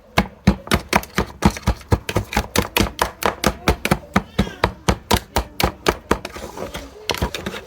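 Ingredients for rabbit snack buns are mashed in a bowl: fast, steady thumps roughly four per second, close and loud, slowing into a few scattered knocks near the end.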